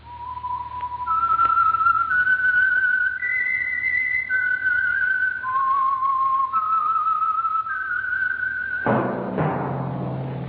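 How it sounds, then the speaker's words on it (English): A lone whistler carries the theme tune of the radio show The Whistler, a clear wavering melody of sustained notes that steps up and down, close and steady, ending in a sudden burst of orchestral sound. "That whistle is your signal for the Signal Oil program, The Whistler."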